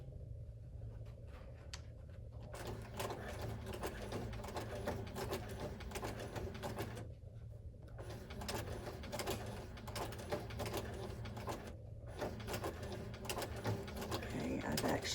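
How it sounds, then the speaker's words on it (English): Domestic sewing machine driven slowly through many thick layers of coiled rope for a rope bowl, a steady mechanical whirring and clatter running continuously at close range, with a brief pause partway through. "Go very slow as I stitch this because I'm asking a lot of the machine to get through many, many layers."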